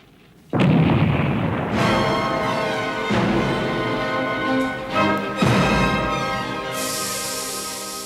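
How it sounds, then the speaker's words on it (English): Artillery shells burst and tear up soil in a typical battle, a heavy continuous barrage of loud booms and rumbling blasts rolling over one another, with fresh bursts striking at intervals and no voices. "Shells tear up the soil and burst."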